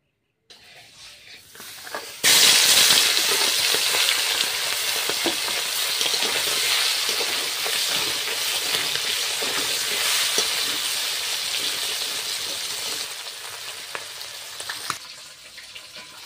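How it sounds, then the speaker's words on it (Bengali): Kuche fish (eel) frying in hot oil in a kadai, a loud, steady broadband sizzle that bursts in after a quiet start and continues without pause, easing slightly toward the end. "তেলটা গরম হয়ে গেলেই মাছটা ভেজে তুলে নেব।"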